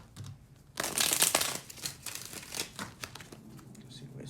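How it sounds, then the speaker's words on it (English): Tarot cards being shuffled close by in quick riffling bursts, a loud flurry followed by several shorter crisp flicks. "Just gonna do a little pre-shuffle."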